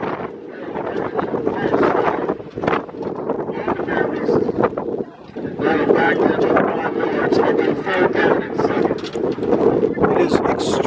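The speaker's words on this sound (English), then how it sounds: "It is extremely windy, in case you couldn't tell." Strong wind buffets the microphone in heavy, continuous gusts at an outdoor semi-pro football game, with a brief lull midway before the roaring rush returns.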